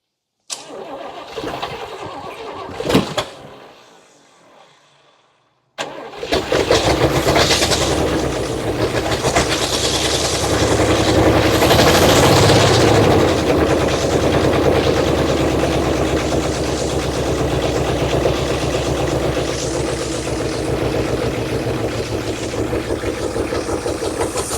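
A 1961 Chrysler 300G engine cranks in short bursts, pauses, then catches and runs loud and steady at close range for the rest of the stretch.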